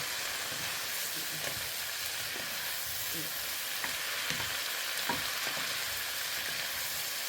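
Leftover vegetables stir-fry in a pan with a constant loud sizzle, punctuated by scraping and tossing knocks from the stirring.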